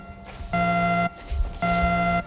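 An alarm buzzer sounds in two loud, harsh half-second bursts separated by a short pause, the droning tone alone with no talking.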